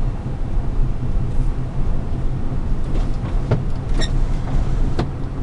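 A 1998 Ford F-150 pickup with a 5.4-litre V8 cruises along, its steady low engine and road rumble filling the cab continuously, with a few faint clicks and rattles near the end and no talking.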